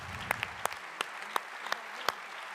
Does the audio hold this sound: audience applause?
yes